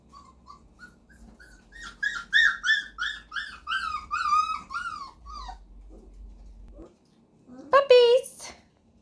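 Springer Spaniel puppies about three to four weeks old give a run of rising and falling whines and yelps close by, pausing before a final high squeal.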